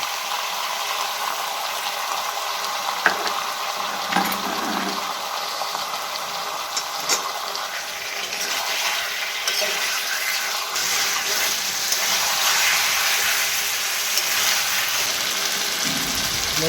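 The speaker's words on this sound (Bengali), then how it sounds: "অল্প একটু জল দিচ্ছি, মশলা দিয়ে বাটির জলটা দিয়ে দিচ্ছি।" Water steadily pours into a pan of spiced chicken being cooked for a gandharaj chicken recipe, a continuous close splashing and trickling wash with no talk.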